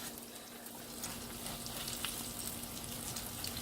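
Calamari and whiting fish sizzle in hot grease in a pan, a steady dense crackle with scattered pops, close and continuous without any talking.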